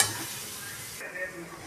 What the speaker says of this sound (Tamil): இப்போ பார்த்தீங்கன்னா இது சும்மா ஒரு ஃப்ரை ஒன்று கொடுத்துட்டு நம்ம அரைச்சி வச்சுருக்க விழுதை நம்ம தாளிக்க ஆரம்பிச்சிருவோம்.